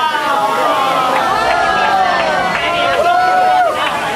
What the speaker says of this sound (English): Giant ass crowd here.